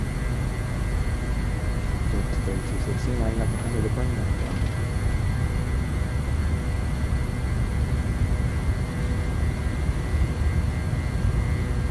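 The jet engines of an MD-80 airliner in the X-Plane 11 flight simulator spool up for takeoff, giving a steady, dense roar with a faint high whine. A voice talks over it at times.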